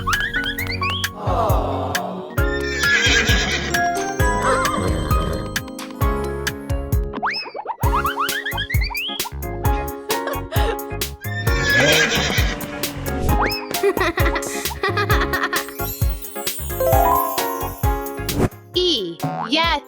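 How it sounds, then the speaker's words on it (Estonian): A horse neighs and whinnies, and hooves clip-clop for a horse and carriage, the sounds loud and repeated in two bursts along with bright boing-like effects and a voice. "Hobune ja tõlg."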